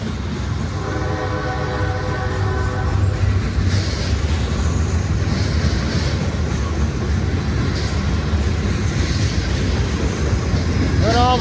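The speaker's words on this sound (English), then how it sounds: "Got the train going under the bridge up there." A six-engine CSX freight train rumbles beneath a bridge with a loud continuous roar, and a horn sounds near the start, with a voice speaking faintly over it.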